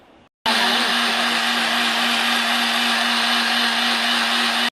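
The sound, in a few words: mixer grinder blending milkshake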